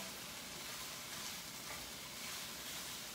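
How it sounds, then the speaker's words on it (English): Chicken and broccoli stir fry sizzles steadily in a hot pan while being stirred, a constant close hiss of frying with no one talking. "Let me stir it in"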